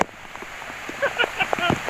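Rain falls on a fishing boat out at sea, a steady patter under a man's short exclamation and nearby knocks and clatter.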